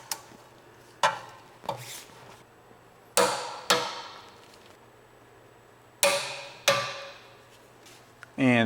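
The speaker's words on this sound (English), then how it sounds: "Now that we have all of the bolts snug, we'll go ahead and do our final torquing." Torque wrench doing the final torquing of 16mm subframe control arm bolts on a 2021+ Tesla Model S, with several sharp, separate clicks spaced a second or two apart in a quiet space.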